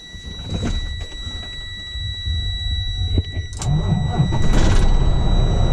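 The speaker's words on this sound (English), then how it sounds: "I'll go ahead and start the truck up" A truck engine starts up, with a crank at about three seconds and a steady low rumble building and growing louder toward the end, close by, with no talking.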